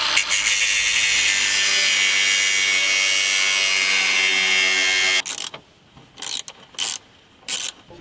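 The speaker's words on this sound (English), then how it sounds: "So what I'm gonna do is just cut 3 threads off" A power tool cuts threads off valve cover bolts on a 1969 Ford F250 Ranger, a loud steady high-pitched whine for about five seconds, then stops, followed by a few short clattering bursts.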